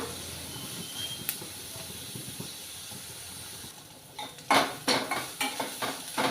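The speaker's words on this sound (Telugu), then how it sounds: "ఇవి బ్రౌన్ కలర్ వచ్చినంత వరకు వేయించుకోవాలి" Crushed ginger and garlic fry in a pan until brown. A steady sizzling hiss runs throughout, and toward the end a spatula stirs and scrapes against the pan in a quick series of clinks.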